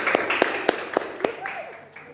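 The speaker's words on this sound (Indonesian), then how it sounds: "Kita beri tepuk tangan untuk kelompok 2." Classroom group clapping for presenting students, a handful of sharp, rhythmic claps at a quick even pace close by, with a voice talking over the later part.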